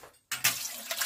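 Water rushes from a tap into a Presto pressure canner, starting suddenly after a brief silence and continuing as a steady, close, hissing pour.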